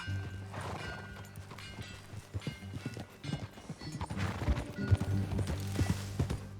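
Horse hooves clip-clopping in Red Dead Redemption 2, an irregular run of fairly close hoofbeats under low ambient game sound, quiet overall, with a faint whinny-like tone and the steps bunching louder toward the end.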